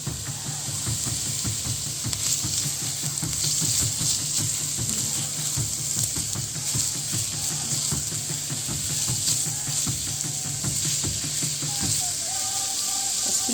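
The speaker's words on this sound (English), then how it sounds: "Just allow that to saute. Until our onions are nice and translucent." Onions sautéing in a pot, a steady, dense sizzle and hiss lasting throughout with faint crackles and occasional stirring scrapes, close and even, no talk.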